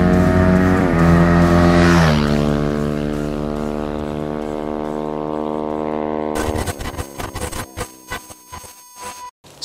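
Sharmax 177fmm motorcycle revving hard toward top speed, a loud steady engine drone whose pitch dips once, then a rough, choppy burble as the throttle eases near the end, with no talk.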